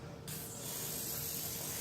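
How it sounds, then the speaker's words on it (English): A short, steady hiss of an aerosol cooking spray spritzed into a dish, close up, starting abruptly and continuing evenly for over a second. "Get your cooking spray. Give it a good spritz."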